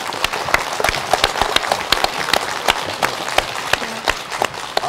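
A studio audience on a 1994 KBS Korean television show claps for arriving guests, crisp individual claps standing out in a lively, uneven round of applause.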